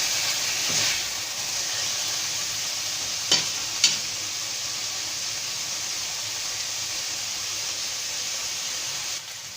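Tomatoes with chopped green chilies sizzle and fry steadily in a pan, a constant close hiss with a couple of brief stirring clinks partway through.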